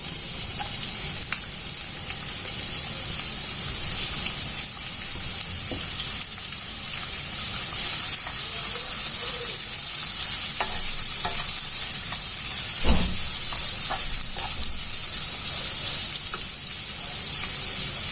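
Sliced onions and chopped green chili fry steadily in oil in a kadai, a loud continuous sizzle with occasional stirring clicks and scrapes, close up and without talk.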